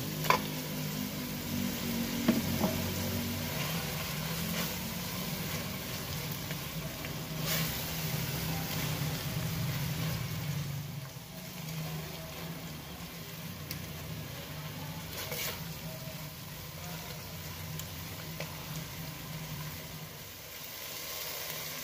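Beef chunks frying in a pan with kaffir lime leaves, bay leaves, lemongrass and galangal for Indonesian beef satay stew, giving a steady close sizzle with stirring scrapes throughout.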